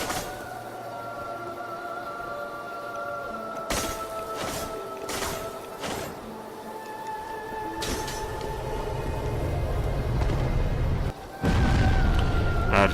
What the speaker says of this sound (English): That attack obviously is a big area of effect explosion